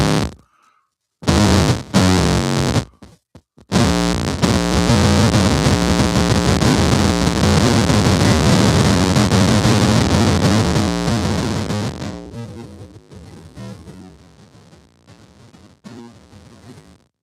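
Harsh, broken-sounding guitar bursts from a glitch effects pedal stutter in and out, then turn into a dense wall of glitchy, distorted noise that thins and fades toward the end.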